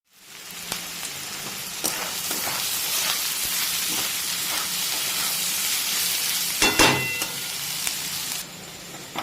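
Beans, carrot and capsicum frying together for fried rice, a dense continuous sizzle and hiss with a few scattered stirring knocks, loud and close throughout.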